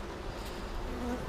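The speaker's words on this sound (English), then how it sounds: "it starts to annoy the bees. You might have noticed the buzz change a little bit there." Honeybees swarm around an opened hive during frame handling, giving a steady, dense, close buzz with a slight rise in pitch as the colony grows agitated, and no voices.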